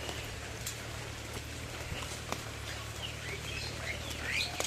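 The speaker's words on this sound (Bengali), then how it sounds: "এখন থেকে বৃষ্টি শুরু" Soft, steady rain patters in the background, fairly quiet, with faint bird calls here and there and no talking.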